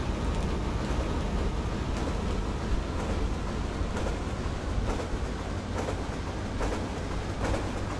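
A train in the video game Resident Evil 3 rolls along steadily with a dense rumbling drone and faint rhythmic clatter of wheels, continuous and fairly close, with no voices.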